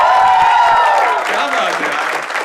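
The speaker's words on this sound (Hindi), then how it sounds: "तो तालियां आनी चाहिए यार।" A live shayari show audience breaks into loud, continuous clapping, with raised voices and cheering mixed in over the top.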